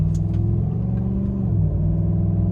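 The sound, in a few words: four-wheel-drive truck on Goodyear Ultraterrain AT tires accelerating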